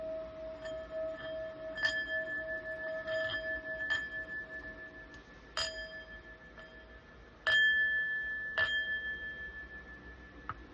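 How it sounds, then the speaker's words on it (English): A small bell is rung to call in spirits, several clear metallic strikes spaced a second or two apart, each ringing out and decaying over faint background hum, near and fairly quiet. "we're using that bell to call in the spirits of the energies and their energies."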